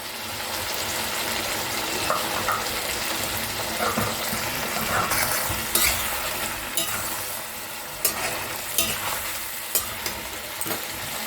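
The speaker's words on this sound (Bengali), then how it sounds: "চিকেনটা প্রায় ভাজা হয়ে এসছে" Chicken pieces coated with Kashmiri red chili powder fry steadily in a pan over a high gas flame for a Mughlai chicken dish, a continuous close sizzle broken by sharp clicks and scrapes as the pieces are stirred.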